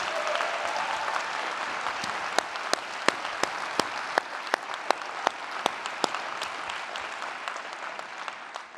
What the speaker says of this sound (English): another round of applause for Wuilly, please.